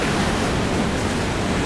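Ocean surf breaking along the shore near Sydney, a steady close wash of crashing water and broadband roar with wind mixed in, continuous and fairly loud throughout with no voices.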